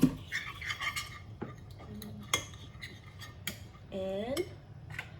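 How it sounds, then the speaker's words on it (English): Spoon stirring and clinking against a pan while curry is mixed, a run of light scraping taps and metallic knocks with a brief ringing clang near the end, close and fairly quiet. "You can give it a good mix."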